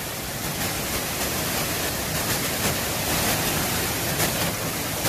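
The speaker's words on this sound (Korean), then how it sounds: "폭포가 사방에서 정신없이 흘러내립니다" A dense, steady rushing roar of falling water, loud and unbroken, like cascades pouring down nearby.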